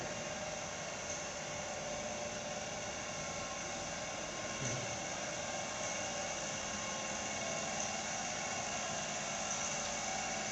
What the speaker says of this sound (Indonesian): ini adalah contoh proses pelumpuran menggunakan alsintan traktor roda 2